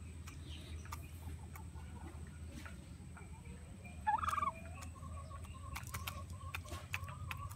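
A pet turkey kept with native chickens gives one brief, moderately close gobble amid steady low outdoor ambience, with faint clucking and scattered small noises around it.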